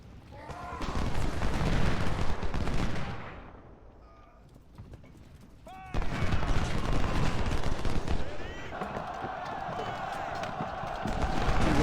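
Dense volleys of musket and cannon fire from troops in the American Civil War strategy game Ultimate General, loud sustained crackling battle noise that fades briefly and then swells again.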